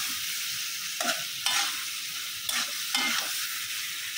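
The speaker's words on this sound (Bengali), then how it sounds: "আলুটা দিয়ে ভালোভাবে কষাই নেব।" Potatoes fry in a spiced masala paste and are stirred vigorously, giving a constant sizzling hiss broken by about four scraping stirs, close up, no talking.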